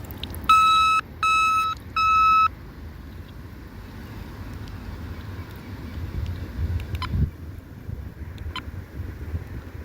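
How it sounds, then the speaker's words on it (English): Three bursts of shrill electronic alarm beeping near the start from a Retevis RM22 floating VHF marine radio's water-activated alarm, then wind buffeting and water sloshing with a few faint clicks. "it does float and flash and alarm as well when it's dropped into the water"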